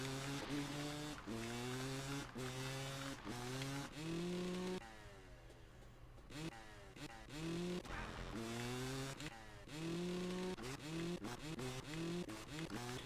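Two-stroke dirt bike engine in the MX vs ATV Reflex video game, revving hard in repeated rising bursts on a custom track, with a short throttle-off lull midway.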